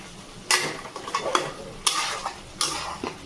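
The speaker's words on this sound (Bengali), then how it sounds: "এবার নেড়ে দেবো একটু" A spoon stirs butter chicken cooking in a pan, producing several loud, separate scraping and clattering strokes against the metal over a faint sizzle, with no voices.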